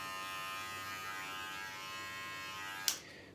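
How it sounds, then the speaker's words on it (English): Electric hair clipper fitted with a number 1 guard, cutting a boy's hair at home, buzzes steadily and close for about three seconds before switching off with a sharp click. "Now you want to make sure when the clipper's going against the head, it's coming out and you're not digging in."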